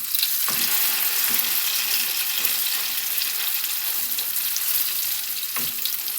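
Hot cooking oil sizzling loudly and steadily in a pan for an eggplant omelette, a dense continuous crackle with a few soft knocks of stirring, close by and with no talking.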